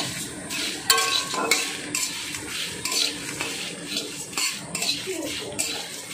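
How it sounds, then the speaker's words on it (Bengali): Coriander, fennel, cumin and carom seeds dry-roast in a hot, dry wok for an amra pickle. Continuous close scraping and rattling stir strokes sound alone, with no talking. "এই শুকনো কড়াতে এবারে দিয়ে দিচ্ছি ধনে, পানমৌরি, সাদা জিরে আর জোয়ান একসঙ্গে দিয়ে নেড়ে নিচ্ছি"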